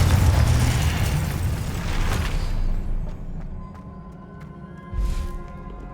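Confringo spell blasts in the video game Hogwarts Legacy, a heavy rumbling explosion that fades out, then a smaller burst a couple of seconds later over a low game soundscape.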